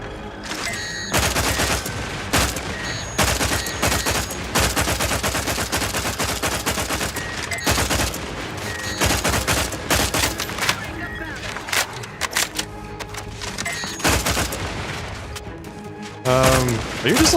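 Gunfire in the video game The Outer Worlds 2 rattles almost nonstop in dense, rapid bursts of loud, sharp shots. Brief gaps break the firing before it resumes.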